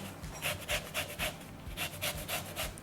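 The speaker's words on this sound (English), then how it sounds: "I'm going to grate the rind." Orange rind scraped against a grater in quick rhythmic strokes, about a dozen soft rasping passes at moderate pace, close but faint.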